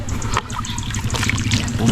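Water trickling and dribbling into a cement mix being hand-kneaded for a DIY concrete wood-look project, a close, steady pour with low background hum and no talk.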